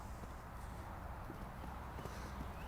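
Hooves of a ridden horse in a riding arena thud in a steady walking rhythm, faint and muffled under a constant background hiss.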